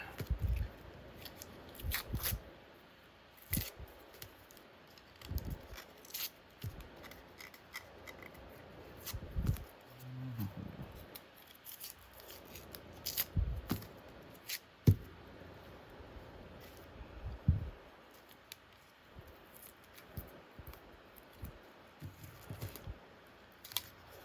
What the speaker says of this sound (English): peeling the tape off and seeing what it looks like